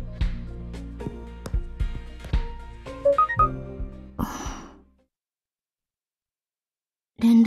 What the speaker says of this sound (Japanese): 奏たちに連絡する。 スマホ使うね